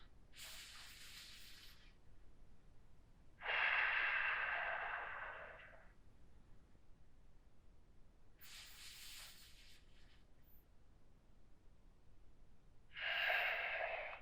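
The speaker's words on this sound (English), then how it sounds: "Deep breaths through the nose." Slow, deep breathing through the nose during a post-exercise stretch, four soft hissing breaths spaced several seconds apart, close and quiet with near silence between.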